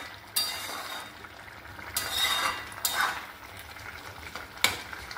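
Ridge gourd and potato curry is stirred in a pan, with a spoon scraping and clinking against the metal in a few distinct strokes over a soft, steady sizzle, close and moderately quiet with no talk.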